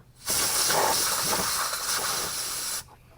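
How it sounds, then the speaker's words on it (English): An air blowgun on a roughly 50-to-60-year-old cable of a Barracuda being readied for racing lets out a single loud, steady hiss of air for about two and a half seconds, pushing red grease through, then cuts off sharply. "I get my trusty blowgun out, give it a blow"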